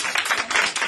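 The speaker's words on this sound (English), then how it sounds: "A round of applause, please." Brief audience applause at an expo panel on vibrational healing, a short burst of many people clapping with no voice standing out.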